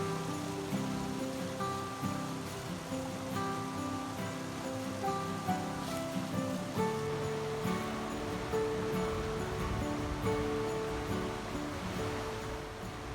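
A clear mountain stream runs along a forest trail on Odaesan's Seonjae path in autumn, fallen leaves drifting on the water; a continuous soft, bubbling wash of flowing water holds steady throughout, with no voices.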